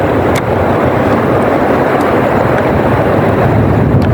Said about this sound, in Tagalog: malakas na naman yung hangin